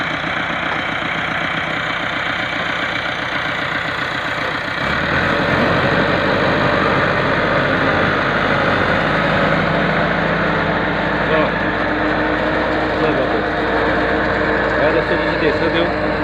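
A tractor engine idles steadily beside a Punjabi super seeder machine, a low continuous rumble that deepens and grows heavier about five seconds in, with people talking over it throughout.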